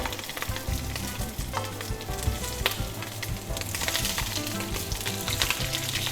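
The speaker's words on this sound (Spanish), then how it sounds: "En un sartencito wok le vamos a pegar una selladita" Sausages sear and spit steadily in a hot wok, a dense crackling hiss with occasional scraping of stirring, close by.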